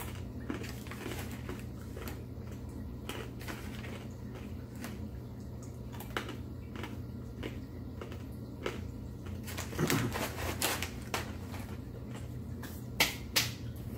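Blazing Foods Carolina Reaper corn nuts are chewed close to the mic, giving sharp, crisp crunches in an irregular rhythm that grow louder and denser toward the end.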